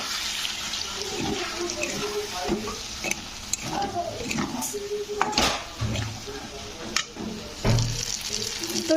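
Diced potatoes with ground poppy seed paste and its soaking water are stirred and sautéed in a pan, giving soft scraping, stirring clatter and faint sizzling, with occasional utensil knocks against the pan throughout.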